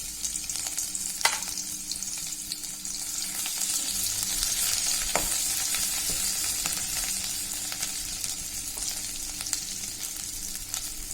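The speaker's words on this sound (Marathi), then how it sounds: "तेल छान गरम झालंय आधी टाकूया लसूण अर्धा पेस्ट" Garlic paste hits hot oil for a Maharashtrian bean dish, setting off a bright, steady hiss that stays loud and even throughout, with a few faint stirring clicks.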